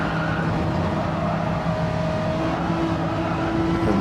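A Citroen race car in Gran Turismo 7 on the Trial Mountain circuit, its engine holding a steady, loud drone with sustained tonal whine and no pauses throughout.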